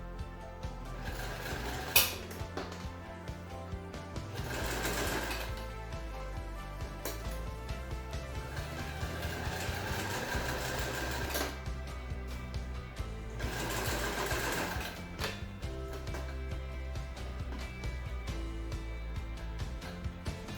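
A sewing machine stitches fabric around to overlap an earlier seam, running in a steady mechanical whir with a few short pauses and restarts, close and fairly loud, with no talking.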